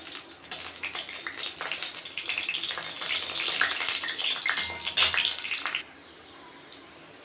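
Dried red chillies stirred in hot mustard oil, a dense steady sizzle with scraping spoon strokes that cuts off near the end, leaving quiet.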